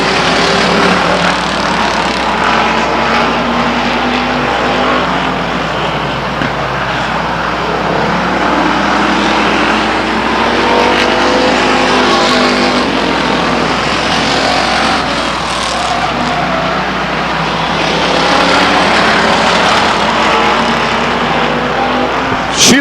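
Race cars roar around the oval at Stockton 99 Speedway, a loud, continuous wall of engine noise as the pack circles the track, with engine notes swelling and fading as cars pass.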